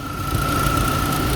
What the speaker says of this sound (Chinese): 这个声音，不晓得是不是刚好发电机快要坏掉了。